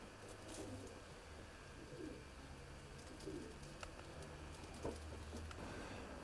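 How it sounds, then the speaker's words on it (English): Racing pigeons in a loft during breeding season, a paired couple of parent birds, give soft repeated coos over a steady background hum, with faint chirps scattered throughout. "These 2 pigeons are the parents of Richie's combine winner, Husky Van Rail."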